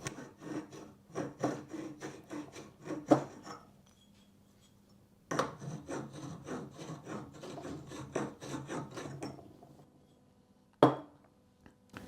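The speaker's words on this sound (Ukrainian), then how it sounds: "беремо наш гратузнімач і знімаємо всі задирки" A hand deburring tool rasping burrs off the cut end of a steel press-fit pipe in rapid scraping strokes, two bursts separated by a pause, close and clear with no talking.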